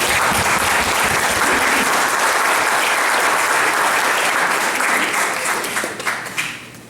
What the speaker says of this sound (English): Let's give them a warm applause.